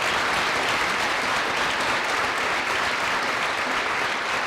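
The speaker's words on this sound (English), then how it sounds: "Let's give them a big round of applause." Steady, dense applause from a large audience honoring standing veterans at a Veterans Day ceremony, loud and continuous throughout with no gaps.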